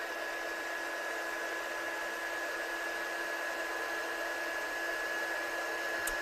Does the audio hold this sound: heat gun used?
yes